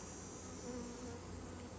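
Honey bees swarm densely over a packed hive frame, a continuous close buzzing drone that stays loud and steady throughout, with no voices.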